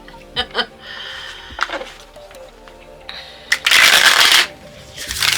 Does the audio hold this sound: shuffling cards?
yes